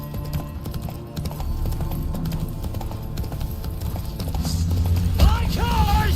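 Roach, a horse in The Witcher 3, trots with a steady, close clip-clop of hooves throughout; a voice speaks briefly near the end over continuous background game ambience.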